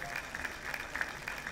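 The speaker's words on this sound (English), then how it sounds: "you can put your hands together. There are no taxes on applause" Dense audience applause at an awards show, a steady close patter of many hands clapping throughout the short stretch.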